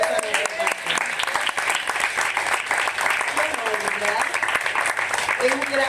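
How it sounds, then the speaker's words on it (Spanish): Members of a church congregation applaud their pastor at his ministerial promotion ceremony, sustained loud clapping throughout with scattered voices and cheers mixed in. "¿Quién le da un aplauso a nuestro pastor?"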